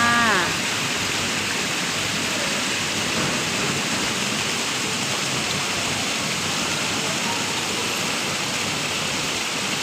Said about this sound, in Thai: คลิปนี้ก็พามาดูน้ำตกเละกอปลา